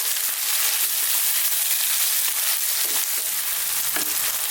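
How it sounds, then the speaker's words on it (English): Garlic and ginger frying in a hot pan over lively heat, a loud, steady, dense sizzle with continuous crackle and occasional soft stirring knocks, close and alone. "I'm going to fry these just for 2 minutes."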